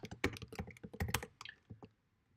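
Quick bursts of keystrokes clatter on a computer keyboard while a command is entered, close and fairly soft, trailing off into silence.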